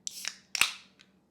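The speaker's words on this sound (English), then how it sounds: "a nicely chilled can of tonic" A chilled can of tonic water cracks open with a sharp snap and fizzing hiss, followed by a second louder pop and hiss and a small click, all close and brief.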